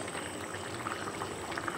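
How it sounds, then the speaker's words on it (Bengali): A bhola fish curry gravy bubbles and simmers steadily close by, a dense wet sizzling bed with soft irregular pops as the fried fish is stirred in. "মাছ দিয়ে একটু নেড়েচেড়ে নেব, হালকা করে ঝোলের সঙ্গে মাছগুলো মিশিয়ে নেব।"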